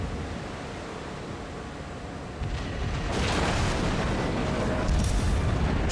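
Naval gunfire from a Mogami cruiser shelling a Myoko in World of Warships, heard as low rumbling booms that swell into a louder, denser wash of broadband blasts in the second half, with no talk.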